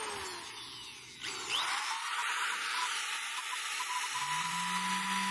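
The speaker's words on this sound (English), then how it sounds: "This is a really strong drill." A strong power drill running off a 12V 100Ah LiFePO4 battery, a steady high electric whine that spins up with a rising pitch and then holds, close and continuous, with no speech.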